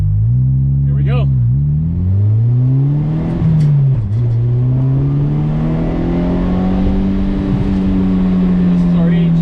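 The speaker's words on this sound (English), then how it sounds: "It's got a lot of bass in the reverberation through the exhaust." Fiat X1/9 with a rebuilt engine, new forged pistons and a PBS cam, heard through its exhaust on a test drive: a loud, close, bass-heavy drone that dips and climbs with the revs, continuous throughout, with a brief voice early on.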